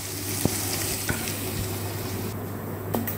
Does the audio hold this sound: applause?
no